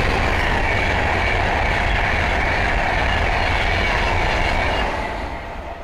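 An Avanti West Coast Class 390 Pendolino speeds past on the West Coast Main Line at Linslade, a loud, continuous rushing roar that fills the whole clip and starts to fade at the end.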